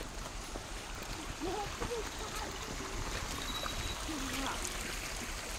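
A stream flows close to a village home, its water rushing in a steady, broadband wash throughout, with faint voices and a few brief tonal calls sitting under the flow.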